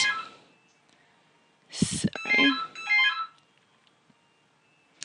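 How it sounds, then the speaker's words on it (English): A mobile phone ringtone sounds in short melodic bursts partway through, close and moderately loud, after a fading sound at the start and with quiet gaps on either side. "Sorry, my phone's ringing there."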